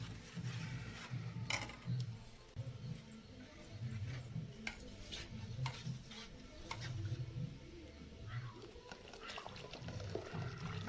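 Millet flour batter stirred into a pot of boiling water for village-style kambu koozh, with a steady scraping, swishing stir over a low bubbling simmer, close and continuous.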